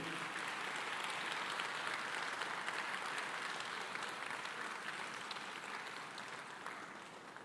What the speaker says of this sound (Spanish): ¿Cuánto le dan un fuerte aplauso a aquel que vive?